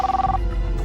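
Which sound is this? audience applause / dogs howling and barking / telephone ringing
telephone ringing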